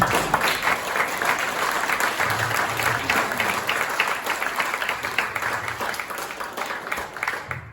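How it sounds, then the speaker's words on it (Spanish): Church congregation clapping and applauding during a service, steady, moderately loud applause sustained throughout with a faint voice underneath. "Le dan un aplauso al Señor."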